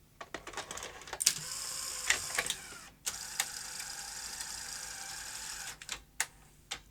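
A rare industrial Betamax video recorder's tape mechanism runs with a steady mechanical whir and rattle, broken by clicks, clunks and brief pauses as it shifts.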